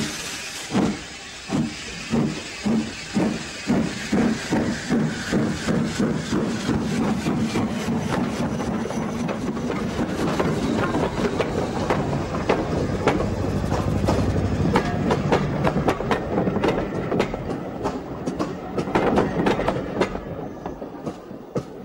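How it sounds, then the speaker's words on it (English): A 1950 Hunslet steam locomotive, Whiston, works along the Foxfield Railway at a 1988 gala, sharp exhaust beats opening the run before merging into a steady roar and rolling wheel clatter that holds close and loud to the end. "Whiston is another Hunswick locomotive, this one being built in 1950."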